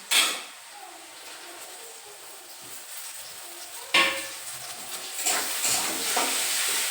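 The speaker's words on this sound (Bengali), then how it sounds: "চিকেনটাকে একটু ভেজে নেবো।" Chicken pieces being stirred and fried in a pan for chow mein, a faint steady sizzle with a few sharp clatters of a spatula against the pan.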